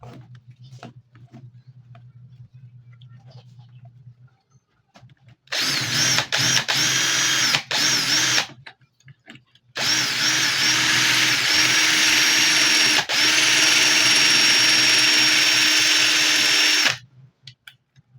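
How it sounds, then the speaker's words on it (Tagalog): A power drill whirs in short bursts, then runs in a long continuous high-pitched grind while enlarging a hole to fit a screw, before stopping; a low hum sits underneath. "barinahin natin, palalaki lang natin ng konti hanggang kumasya yung tornilyo"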